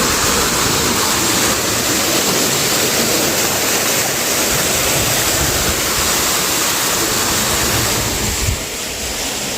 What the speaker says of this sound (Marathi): तर विहिरीमध्ये ना पाणी पडतंय.